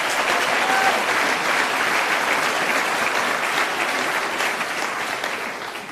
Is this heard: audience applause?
yes